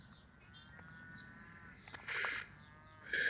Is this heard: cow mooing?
yes